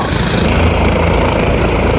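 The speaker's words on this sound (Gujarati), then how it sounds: "આ હેલિકોપ્ટર છે" Helicopter near Kedarnath, a loud, dense rotor and engine roar filling the whole clip at steady volume, close by, with no voices over it.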